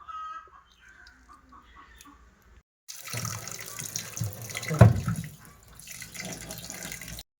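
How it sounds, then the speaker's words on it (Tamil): Sardines being washed under running tap water in a kitchen sink, a splashing gush that starts partway through and grows louder, with a few bird-like squeaks over it. "இதை நல்லா செவிலெல்லாம் எடுத்து வாழையும் எடுத்து நல்லா நீட்டாக கழுவி எடுக்கணும்."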